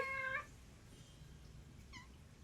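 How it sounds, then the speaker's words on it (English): A cat gives a short, clear meow, followed a moment later by a second, fainter meow against quiet background hiss. "These are the kitties that I take care of at my base camp."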